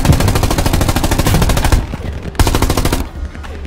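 Rapid automatic gunfire from the Hell Let Loose World War II shooter, loud sustained bursts of machine-gun fire with a short pause before another burst, then a quieter tail.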